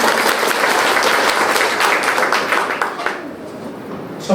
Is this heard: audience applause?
yes